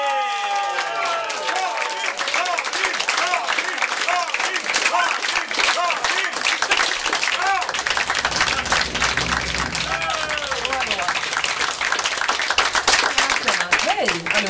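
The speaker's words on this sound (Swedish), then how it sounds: "Mina damer och herrar, en kosmisk applåd för Karin Kalle!" An audience claps and cheers for a guest artist at a live show, with sustained crowd applause and voices, shouts and whoops rising above the clapping throughout.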